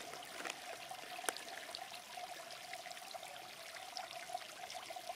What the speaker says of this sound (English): Pour water till it reaches in between the lines